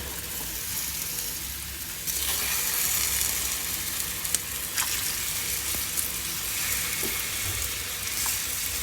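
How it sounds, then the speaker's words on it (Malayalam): Plantain slices frying in ghee make a steady, close sizzle that swells slightly partway through, with a few faint stirring clicks and no voices. "നെയ്യിൽ പഴം വറക്കുമ്പോഴേ നല്ല ടേസ്റ്റാണ്, ഭയങ്കര നല്ല സ്മെല്ലുമാണ് കേട്ടോ"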